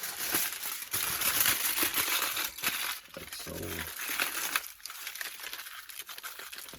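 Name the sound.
foil paper being crumpled and smashed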